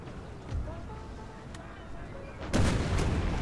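Cannon fire from artillery batteries in a Napoleon: Total War battle at First Manassas, a distant rumble and a sharp crack rising into a louder, sustained burst of booming near the end.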